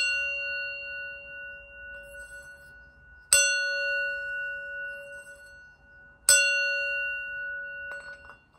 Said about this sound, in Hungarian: Előtte szeretnék nektek ilyen kis csengő hangot adni.